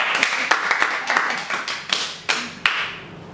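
An audience claps in scattered bursts, uneven and fairly close, with some sharp isolated claps among softer ones.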